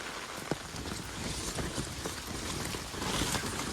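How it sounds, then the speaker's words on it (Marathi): Heavy monsoon rain pours down in Konkan, a dense, loud, continuous hiss of drops striking surfaces that swells slightly toward the end. "आता परत पाऊस येलो तो बघा बापरे"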